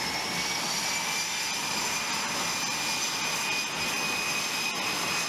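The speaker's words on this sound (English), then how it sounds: "Once the plane is ready to head out again, the plane will prepare for takeoff." F-15 jet engine running at a steady, loud roar with a broad rush and faint high whine, continuous and close throughout as the fighter prepares for takeoff.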